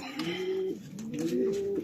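Racing pigeons cooing close by, two drawn-out rising and falling coos in quick succession over faint background hiss.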